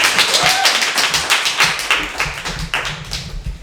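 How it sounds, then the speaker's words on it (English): An audience applauding after a literary reading, dense hand clapping from a modest crowd, fairly close and even, tapering slightly toward the end. "One more round of applause, please."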